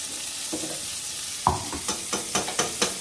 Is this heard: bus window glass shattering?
no